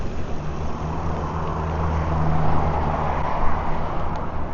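Traffic rolling along a road over the Akatarawa hills, heard as a steady low rumble and broad road noise that swells slightly mid-way, continuous and moderately near, with no talking.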